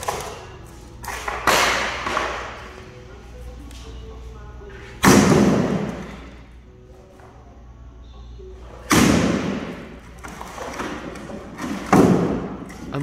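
Heavy blows of a sledgehammer and axe smash into a bathtub, landing as several loud, separate thuds and crashes with pauses between them, while people exclaim nearby.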